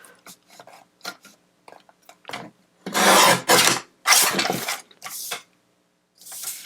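A paper trimmer cutting along the edge of a pink greeting card, with scattered short clicks and taps followed by several loud rasping slicing strokes close by, then a final softer stroke.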